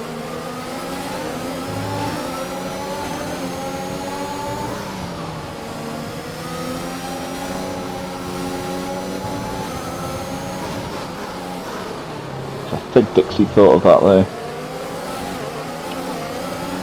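Racing car engines drone and whine continuously in a video game race at Bahrain, McLaren and Ferrari cars battling, pitch rising and falling with gear changes, with a brief burst of louder clattering near the end and a voice speaking over it.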